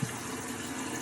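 Steady running water pours into the tub of an unbranded portable manual washing machine, a continuous moderate gush with no pauses, close by and alone.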